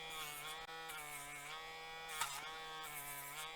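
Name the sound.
Dremel rotary tool sanding burrs off edges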